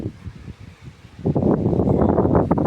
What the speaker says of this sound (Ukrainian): зірвався страшений вітер, страшенні хвилі